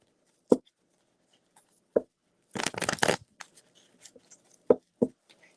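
Tarot cards shuffled in a quiet room: a few sharp single riffles, then a dense burst of rapid flutter and slaps around the middle, followed by more scattered snaps, close and clear with no talk.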